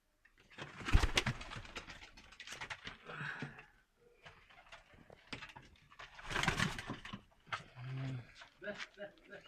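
Pigeons coo low and soft at a pigeon keeper's loft in Kochkor-Ata, Kyrgyzstan, while people talk nearby over most of the clip; the clearest cooing comes near the end.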